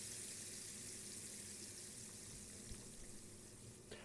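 Steady rain pouring in Ever17 Remake, a constant soft hiss of falling water with a faint splash near the end.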